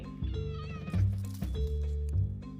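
A cat meows insistently and aggressively, demanding food, with loud repeated yowls layered over steady background music throughout.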